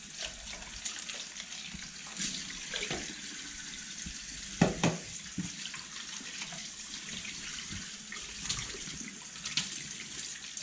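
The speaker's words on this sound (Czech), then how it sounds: "Můžeme ji trošku opáchnout studenou vodou, ať ten sliz zmizí" Cold tap water runs steadily while a chub fish is rinsed in a kitchen sink, producing a continuous splashing hiss with a few louder splashes near the middle. No one speaks.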